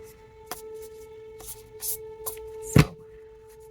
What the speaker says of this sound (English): So I'm just gonna give it a good shuffle 3 times.